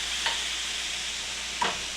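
Mushrooms fry in oil in a pan with a steady, hissing sizzle, broken by two brief scraping stirs, close and moderately loud with no voices.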